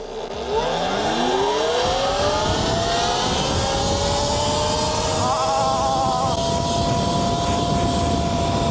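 Talaria XXX electric dirt bike with its stock motor racing from a standing start, a rising whine that climbs steadily in pitch and holds, heard from moderate distance with faint background voices.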